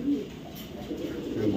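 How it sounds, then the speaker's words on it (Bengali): Redneck Budapest pigeons coo nearby in low, soft, throaty murmurs that repeat across the short stretch. "একজন রেডনেক বুদাপেস্ট কবুতর, কোয়ালিটি দেখেন ভাই, কোয়ালিটি দেখেন।"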